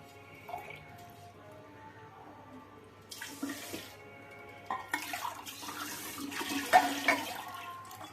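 Water pours and splashes into a cooking pot in bursts that grow louder and fuller, with a faint low hum underneath.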